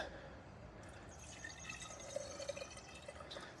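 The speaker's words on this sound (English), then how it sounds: "Give it a little shot of water there." Water splashed and poured into a vintage farm pump to prime it, soft trickling and a few faint drips close by at low level, with no talk.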